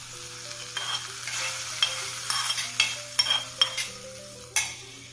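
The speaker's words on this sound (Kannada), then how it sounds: "ಈಗ ಈ ಸಾಂಬಾರಿಗೆ ಒಗ್ಗರಣೆಯನ್ನು ಸೇರಿಸ್ತಾ ಇದ್ದೀನಿ." Tempering of hot oil poured into sambar, a soft crackling sizzle with spoon stirring and scattered metallic clinks against the pot, close by and unaccompanied by talk.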